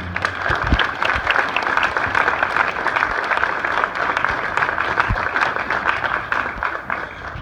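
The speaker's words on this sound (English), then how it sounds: "let's have a round of applause for the EOP family" An audience applauds the EOP family, the Educational Opportunity Program, at a speech event, with steady sustained clapping from a crowd, fairly loud and unbroken for the whole stretch with no voices over it.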